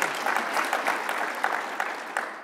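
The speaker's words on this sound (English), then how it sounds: "you can clap." Audience at a panel talk on mentorship and youth sports clapping steadily, a dense, even round of applause with no voices over it.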